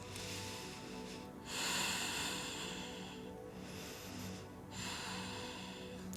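Slow, deep breaths during a hard hatha yoga pose, each long inhale and exhale soft and airy, heard close in a quiet room with no talk.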